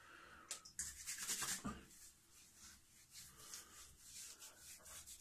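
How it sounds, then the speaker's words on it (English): Gillette Nacet razor blade dragging through facial hair in short scraping strokes, close and moderately loud, with a dense burst of rasping passes early on and quieter strokes after. "just shave all the hair off"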